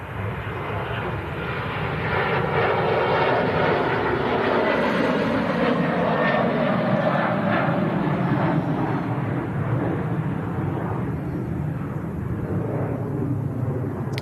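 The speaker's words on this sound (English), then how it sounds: "after that Ryanair rotates out to Lanzarote" A Ryanair jet taking off, a loud broad steady engine roar that swells after the first second and holds at full power throughout.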